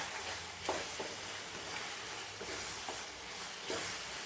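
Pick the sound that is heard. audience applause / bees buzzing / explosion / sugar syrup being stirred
sugar syrup being stirred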